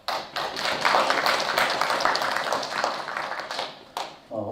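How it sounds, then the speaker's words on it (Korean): An audience claps to welcome a professor at an academic award ceremony and special lecture, a steady moderate round of applause that fades out after about four seconds, followed by a short thump. "큰 박수로 교수님을 맞아주시기 바랍니다"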